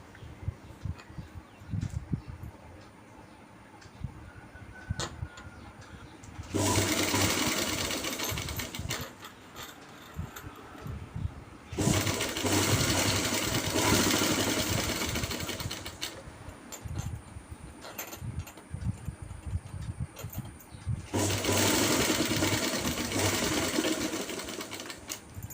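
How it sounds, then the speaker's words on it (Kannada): A sewing machine stitches a quarter-inch seam along a trouser belt piece, running loud and close in three sustained whirring bursts of several seconds each, separated by quieter pauses of handling and faint clicks. "ಈ ಥರ 1/4 ಇಂಚಲ್ಲಿ ಸ್ಟಿಚ್ ಹಾಕೊಳ್ಳಿ ಗೈಸ್."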